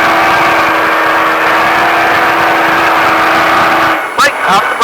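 A Baja truck engine roars loud and close with a sustained, droning note on a Las Vegas driving course, then drops away briefly near the end as the throttle eases.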